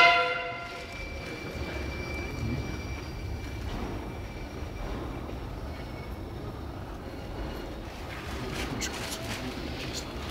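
A train horn sounds briefly at the start over the heavy rumble of rolling rail cars, with faint metallic squeals and clanks near the end.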